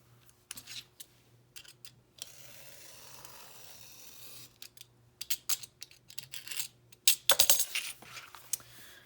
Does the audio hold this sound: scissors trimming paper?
yes